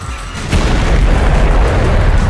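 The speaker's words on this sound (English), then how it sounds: "maybe I shouldn't have launched my cannon right then and there" A video game cannon launches with a deep, heavy boom that swells about half a second in and holds as a loud, sustained low rumble to the end, with no voices.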